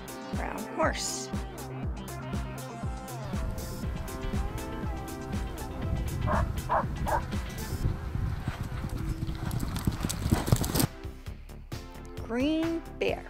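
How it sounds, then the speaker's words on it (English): A horse's hooves clip-clop in a steady rhythm with a short whinny, set among cheerful music and playful sound effects for a children's animals-and-colors lesson. "Brown horse."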